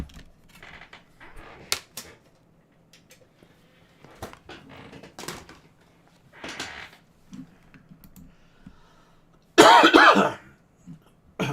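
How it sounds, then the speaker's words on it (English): A close, harsh cough bursts loudly into the microphone near the end, following scattered clicks and soft rustling. "Sorry for coughing into the mic."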